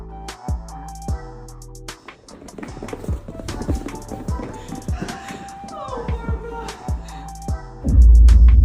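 Horses' hooves clip-clop in a steady, fairly close rhythm of sharp, distinct strikes that run for several seconds. A loud burst of noise comes in at the end.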